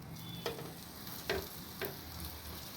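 A stuffed leftover chapati fries in a little oil on a flat iron tava, giving a soft continuous sizzle punctuated by three brief scraping or tapping touches of a spatula, quiet and without speech.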